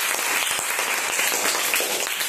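Pupils in a classroom applaud together during a quiz on tsunamis, a dense, even burst of clapping that carries through the whole moment.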